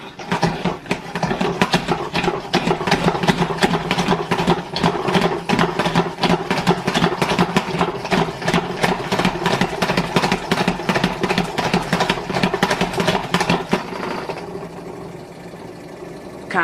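A salad spinner whirring as lettuce is spun dry, a fast steady rattling churn for most of the stretch that stops abruptly near the end and leaves a quiet tail.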